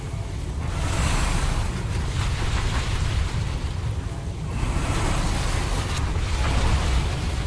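Water rushes in a broad, steady roar inside a fantasy role-playing game, loud and continuous with slight surges, with no talk over it.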